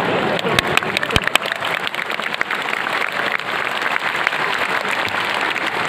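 Lively applause from a lecture audience at a religious talk in Kinabalu, Malaysia, a dense, steady wash of many hands clapping throughout, with a few sharper claps standing out and no speech over it.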